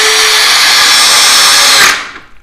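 A cordless drill, APR 13 Pro, boring into a 6x6 timber, a loud steady high whine for about two seconds that stops abruptly and fades out.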